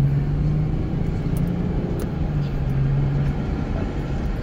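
Car accelerating hard on the Las Vegas F1 racetrack, a loud, close, steady engine drone with a sustained low tone and road rumble, no talk.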